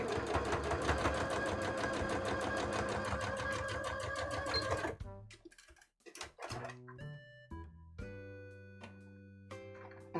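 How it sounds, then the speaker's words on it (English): Domestic sewing machine stitching over folded embroidery fabric, a fast steady mechanical rattle for about five seconds, then stops, followed by scattered clicks and soft tones. "So then we fold it, and then we sew over the same bit that we just did."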